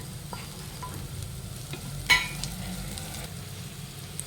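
Chopped onion frying with salt, crushed garlic and ginger in a pan for bread pakoda, a steady low sizzle with occasional stirring scrapes and one sharp clink of a utensil midway.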